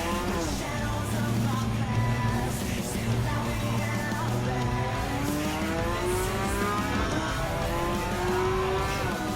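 Porsche race cars lapping in Gran Turismo 7 during a Porsche Cup race: engines rev and shift continuously, with rising and falling pitch sweeps, loud and steady throughout the whole stretch.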